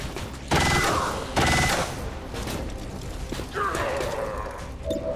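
Bursts of gunfire from the video game XCOM 2, several heavy, loud volleys in quick succession with mechanical clatter between them, no talking.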